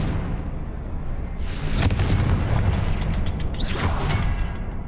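Confringo fire spell bursting in Hogwarts Legacy on hard mode: a few heavy booming blasts with whooshing tails over a constant low rumble of game ambience, one sharp crack near the middle and another surge toward the end.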